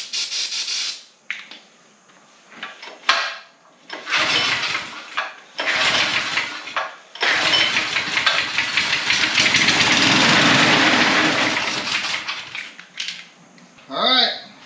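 A Manco Intruder II go-kart's small engine cranks in several short bursts, catches, then revs and runs for a sustained stretch before cutting out, close and loud in a garage-like space.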